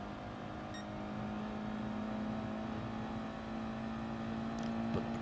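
Race cars, including a McLaren and an Audi, run laps at Dragon Trail in a Gran Turismo online race, heard as a steady, distant engine drone that holds through the stretch with a faint rise near the end.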